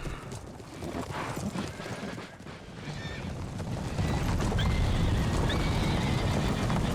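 Colonial cavalry horses in the video game Empire: Total War neigh and whinny amid a dense rumble of battle and hoofbeats, the clatter swelling louder toward the end.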